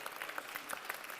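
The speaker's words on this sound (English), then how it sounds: "So now let's give a great applause to the Maestro Filippo Stefanelli" Faint, distant applause from the crowd at an outdoor flame-lighting ceremony for the Minsk 2019 European Games after a choir performance, scattered sharp claps audible within a thin wash.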